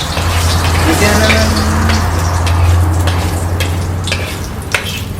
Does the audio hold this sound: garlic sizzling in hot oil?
yes